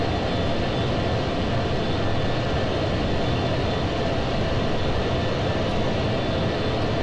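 Avro Vulcan bomber flying at low level in a flight simulator over Scotland, a steady, loud, dense engine roar with broad rushing noise that holds unbroken throughout.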